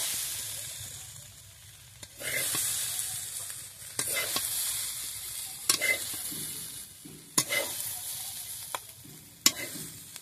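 A little oil sizzles steadily in a pan as pieces of ivy gourd fry, broken by several sharp scraping stirs of a utensil.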